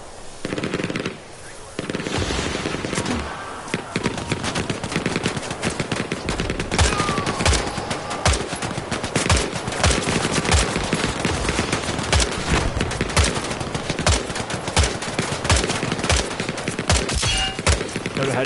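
Loud, sustained gunfire in the Hell Let Loose video game on PS5, with rapid automatic bursts and single heavy shots overlapping in a dense, almost unbroken battlefield barrage.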